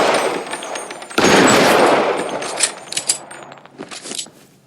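Gunfire in the 1940s Los Angeles detective game L.A. Noire: a loud, dense burst of rapid shots from close by, followed by scattered single cracks trailing off.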